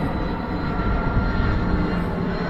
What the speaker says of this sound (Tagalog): Hey airplane, anong aeroplano to?